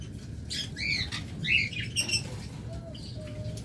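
A pair of blue mask birds at a bird farm give repeated high chirps and short squawks, several bursts close together, with rustling and a steady background hum.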